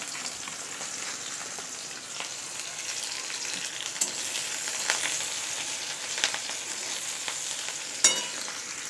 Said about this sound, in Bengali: তেল দিয়ে দিয়েছি এইবার হচ্ছে ডিমটা করবো